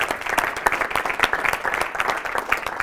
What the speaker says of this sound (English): And big applause for Laura.